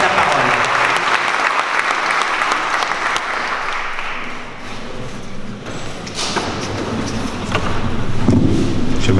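Loud, sustained applause from a diaspora conference audience greeting the Congolese politician Moïse Katumbi, dipping briefly in the middle and then swelling again, with some scattered voices mixed in.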